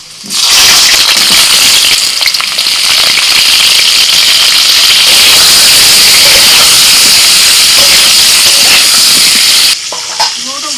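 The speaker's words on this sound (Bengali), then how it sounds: "প্রথমে আলু ভেজে নিচ্ছি" Potatoes frying in hot oil for an Adivasi-style duck meat curry, a loud, continuous sizzle and hiss that runs steadily for about ten seconds before cutting off sharply near the end.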